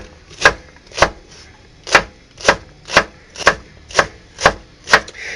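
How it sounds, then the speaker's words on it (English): A knife chops celery stalks on a board for seafood chowder, about nine crisp, evenly spaced strikes with clear, loud attacks and no talking. "So you just want to put your hand out like that and just continue cutting them."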